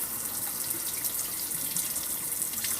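Paint is scrubbed off a miniature under a running tap, a steady loud hiss of flowing water into a sink with faint brushing and scrubbing mixed in.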